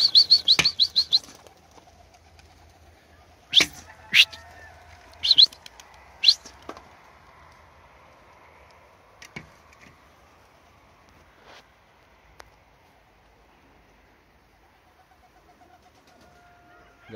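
Budapest pigeons flap their wings in brief loud bursts, several clattering takeoffs spaced apart, with soft background hum and scattered clicks between.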